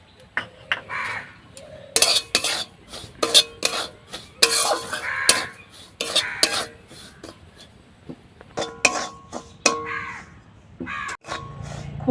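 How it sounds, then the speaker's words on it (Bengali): Semolina dry-roasts in a wok on a stove, stirred with a utensil in irregular scraping and clinking strokes against the metal, close and busy, with a bird cawing faintly in the background. "সুজিটাকে আমি একটু ভেজে নেব"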